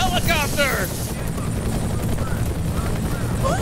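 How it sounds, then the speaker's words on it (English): A helicopter in the video game F.E.A.R. thunders loudly and steadily throughout, its low rotor rumble filling the scene while a few brief synthetic chirps and warbles sound early on. "I can't hear you on account of the helicopter."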